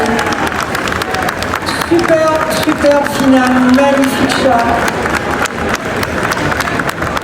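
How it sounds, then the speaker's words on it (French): A crowd claps steadily at a cat show grand final honoring a winning Siberian cat, the applause sustained throughout while a presenter talks over it. "encore une fois, applaudissements bien fort, s'il vous plaît"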